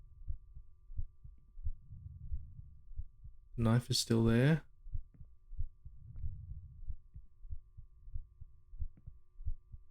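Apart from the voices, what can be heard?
heartbeat sound from a PSX-style video game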